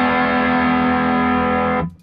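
An overdriven guitar chord through a 1979 Marshall JMP 2203 MKII amplifier rings out loud and sustained with clear note separation, then cuts off abruptly near the end.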